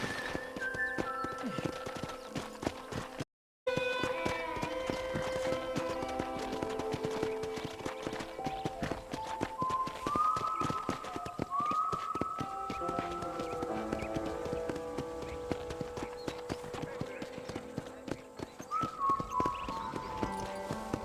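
Continuous clip-clopping of horse hooves in Red Dead Redemption plays under layered background music and ambient game sounds, with a brief dropout near the start.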